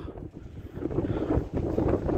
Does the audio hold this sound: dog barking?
no